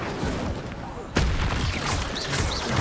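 Incendio fire spell cast in a Harry Potter wizarding video game, a sudden whooshing burst that flares up after a quiet stretch and settles into crackling game noise, with brief whistling tones later.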